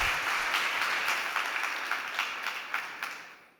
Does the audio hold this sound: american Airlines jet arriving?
no